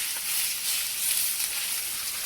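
Steak searing in a hot stovetop pan gives a dense, even hiss of frying fat, close and steady for a couple of seconds with no voices.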